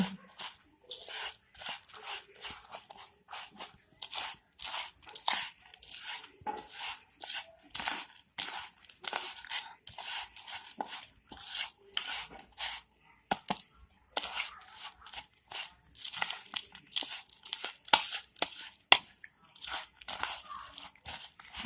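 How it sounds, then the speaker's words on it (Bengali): Raw rice is mixed by hand with ghee and other ingredients for Bengali sweet pulao, making close, grainy crunches and rustling scrapes in irregular bursts over about twenty seconds, with no talking. "ভালো করে ওই চালের সাথে আমি সব উপকরণগুলো মিশিয়ে দেব"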